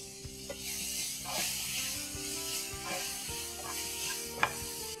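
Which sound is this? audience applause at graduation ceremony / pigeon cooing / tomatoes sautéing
tomatoes sautéing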